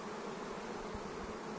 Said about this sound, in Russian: Жарко, пчела начинает выползать на прилетке.